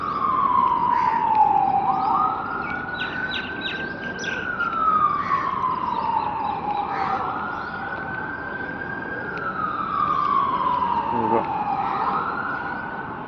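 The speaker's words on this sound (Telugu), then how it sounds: "సైరన్ పడుతుంది." An emergency vehicle siren in Dubai wails in long rising and falling sweeps that repeat steadily, loud and fairly close, over traffic noise, with light background sound.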